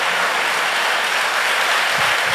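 Dense, steady applause from a church congregation at a camp meeting, loud and continuous throughout with no pauses, a wash of many hands clapping together.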